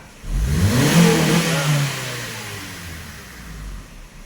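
A car engine with an ECM fault, under load testing, is pushed hard to wide open throttle. The loud, close rev climbs sharply, holds, then sinks back toward idle.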